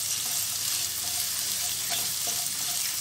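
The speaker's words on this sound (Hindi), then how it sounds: "अब देखिए मेरा प्याज जो है ये फ्राई होने लगा है" Onion frying in a pan for a sooji upma gives a steady, close, hissing sizzle that stays even throughout, with a few faint tonal clinks and no voices.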